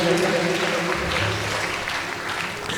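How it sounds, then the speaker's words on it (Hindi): An audience at a Jain religious birthday gathering in a dharamshala hall breaks into applause, a dense, steady clapping that fills the room for about three seconds while voices carry on underneath. "एक बार जोरदार ताली बजाइए।"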